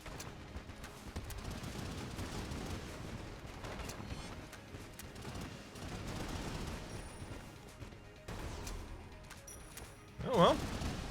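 A Yari launcher fires in the video game Enter the Gungeon, a dense, continuous rattle of rapid projectiles mixed with game noise, ending in a brief louder burst.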